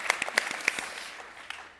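Scattered audience clapping at a sports panel event, a brief ragged burst of claps that quickly thins out and fades, moderately close.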